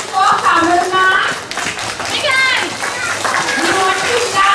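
Children at a school assembly clap in a steady patter of overlapping hand claps, with young voices and an adult talking loudly over the applause throughout.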